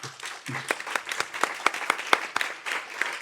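Audience members at a national rare diseases day conference applaud a speaker, giving scattered, distinct claps at moderate volume that form a light, uneven round over a few seconds, with a brief low voice at the start.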